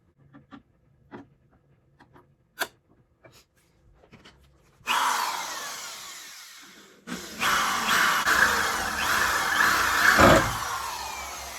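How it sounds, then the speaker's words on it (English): A few light clicks and taps, then a power drill bores a starting hole through a metal bumper reinforcement on a Dodge Challenger, running in two long, grinding bursts, close and loud, the second one longer. "go ahead and drill through so we can get our starting hole"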